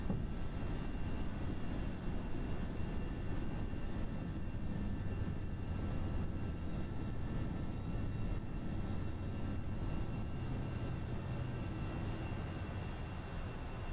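FSLabs A320 climbing out of Turin after takeoff with the gear retracting, in the Prepar3D v4 flight simulator, a steady, loud jet engine roar with a broadband rumble that holds even throughout, with no voices.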